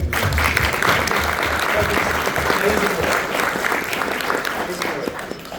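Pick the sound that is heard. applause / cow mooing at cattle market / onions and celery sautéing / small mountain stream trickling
applause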